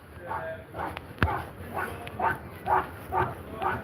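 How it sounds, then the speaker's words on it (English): A dog on a walk around the seaside town of Withernsea barks repeatedly in an unhappy, steady rhythm of short yaps at moderate distance, with a person talking nearby and outdoor background noise. "That dog don't sound happy, does he?"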